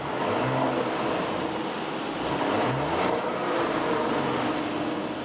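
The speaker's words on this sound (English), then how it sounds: "change and upgrade to the 3-liter turbo V6 that I'm driving" Cabin sound of a 2025 Audi Q7 with a 3-liter turbo V6 and 8-speed transmission on the move: a continuous, steady engine and road roar with low hum throughout, no talking.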